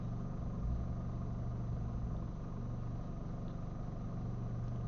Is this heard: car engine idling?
yes